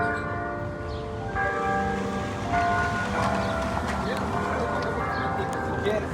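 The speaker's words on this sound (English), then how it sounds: "And you can hear the bell. It's noon. That's the noon bell." Church bell ringing noon in a town square, sustained tolling tones heard outdoors amid street ambience and a voice talking over it.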